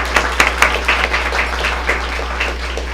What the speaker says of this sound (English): Please join us in applauding these staff members for their assistance this evening.